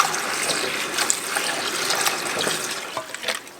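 Water runs and splashes steadily while poke salat greens are rinsed in a cast iron pot. The gushing is close and continuous, with small sloshes along the way.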